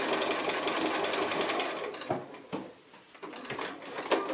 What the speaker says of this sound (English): just that last bit of my top stitching coming round there